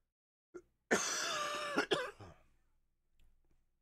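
A strained, raspy cough sounds close by: one long rough hack followed by a couple of sharper bursts, trailing off into quiet breathing.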